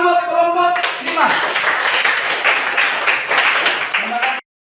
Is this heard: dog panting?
no